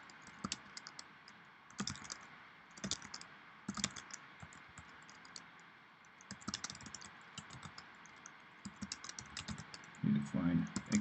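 Typing on a computer keyboard: scattered bursts of quick clicking keystrokes with pauses, fairly faint and close.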